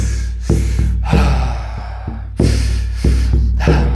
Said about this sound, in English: Breathe deeply, with power. Fully in.